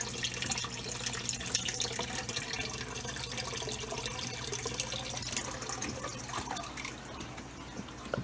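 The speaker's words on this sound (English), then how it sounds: "So I am going to jump in and grab this intake sponge" Hand reaching into an aquarium to grab a filter intake sponge: steady close splashing and trickling water with small drips and gurgles throughout, under a constant low hum, no talk.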